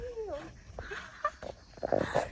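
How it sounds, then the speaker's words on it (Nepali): A dog whimpers and yips softly a few times nearby in Darjeeling, with some rustling and faint background noise. "यो कुकुर चाहिँ हाम्रो घरको कुकुर हो"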